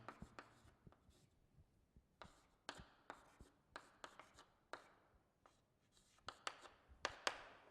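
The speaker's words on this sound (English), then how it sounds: "Let me write it." A marker or chalk scratches across a board in quick, close strokes with short pauses between, forming a brisk irregular rhythm of writing in a chemistry lesson on hydrolysis and LiAlH4 reduction.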